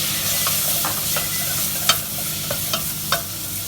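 Chicken curry with cardamom pods and lime juice cooking in a pan, a steady soft sizzle with occasional stirring scrapes and clicks of a utensil against the pan, close by, with no voices.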